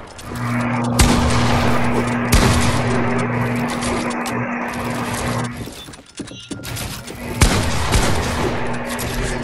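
Loud, rapid gunfire in a shooting video game, dense overlapping bursts over a steady tonal hum, with a brief lull midway before the shooting resumes.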